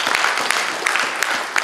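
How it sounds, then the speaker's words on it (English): A congregation claps at a church sermon, a short burst of dense, lively applause with sharp individual claps standing out. "That one you should clap for."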